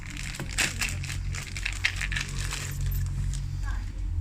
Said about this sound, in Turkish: Kavanozumuzu çıkarıyoruz.